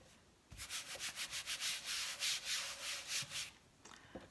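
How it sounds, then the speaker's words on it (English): A squeegee drags chalk paste across a stencil laid on a t-shirt, making a close run of rhythmic rasping strokes that repeat steadily for about three seconds before stopping, with no talking. "I'm going to just squeegee it across."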